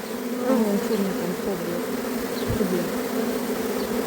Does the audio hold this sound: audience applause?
no